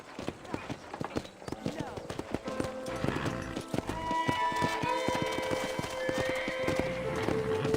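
Rapid, regular hoofbeats clip-clop at a trot, close and steady, with a horse whinnying and a voice speaking over the middle section, from the video game Red Dead Redemption.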